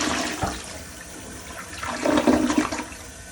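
A Project Source toilet with a 3-inch flush valve flushes, starting with a short knock, then swelling into a loud gurgling rush of water that tapers off near the end.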